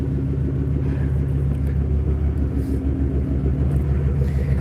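A car engine with a homemade exhaust idles steadily, a loud, close, deep rumbling drone with an even throb and no talking.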